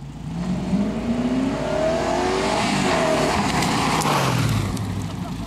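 An MG car fitted with a V8 engine runs close by, its engine note climbing and falling through revs with a steady whirring drone.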